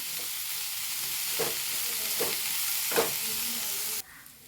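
Onion sautéing in oil in a pan, a steady close sizzle with a few soft stirring scrapes, cutting off abruptly near the end.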